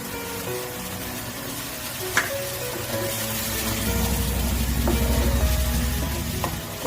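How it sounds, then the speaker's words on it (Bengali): Cumin-infused water poured into a hot wok over a masala of ground tomato, ginger and garlic for a shol fish curry, building into a loud steady sizzle and bubbling with a few clinks of utensils. "জিরে ভেজে রাখা জল অল্প কড়াইতে দিয়ে দিলাম।"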